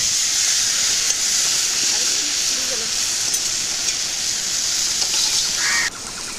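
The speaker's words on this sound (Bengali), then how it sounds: "মাছটা নেড়ে নিচ্ছি।" Lote fish being stirred into a spice mixture in a hot pan for a Bengali mashed-fish dish, giving a steady close hiss and sizzle throughout, with faint scraping of the stirring and no talk.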